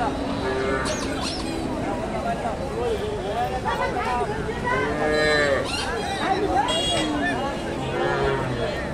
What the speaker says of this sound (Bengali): 7 লিটার দুধের গাভী, ফ্রিজিয়ান গাভী